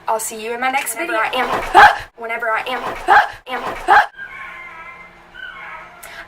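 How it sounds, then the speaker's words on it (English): A dog barks excitedly at a package delivery at the front door, loud repeated yips and barks mixed in with someone talking nearby. "my dog is currently going bananas right now because they just dropped off a package at the front door"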